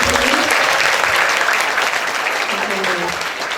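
A crowd of students at a Jakarta vocational school event claps enthusiastically, dense applause that stays loud throughout and tapers slightly at the end.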